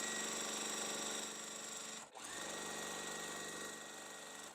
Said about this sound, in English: So I'm going to sew this part first, like that